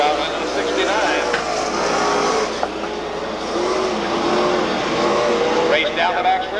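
Late model stock cars racing at San Jose Speedway, a continuous roar of engines with cars passing and revving, heard under a commentator calling the race.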